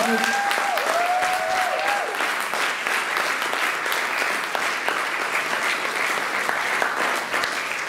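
Loud, sustained applause with cheering fills a church service, a dense steady roar of clapping from the congregation throughout, with a brief voice at the start.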